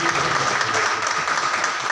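An audience applauds a Gujarat Foundation prize distribution with dense, steady clapping that fills the whole moment, loud and continuous, with no voices standing out.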